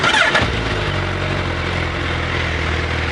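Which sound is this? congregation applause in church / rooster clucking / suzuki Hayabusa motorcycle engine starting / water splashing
suzuki Hayabusa motorcycle engine starting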